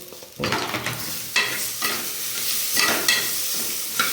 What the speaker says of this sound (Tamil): இந்த சூட்லேயே தேங்காய் வறுத்தா போதும், ரொம்ப வதக்க வேண்டியதில்லை.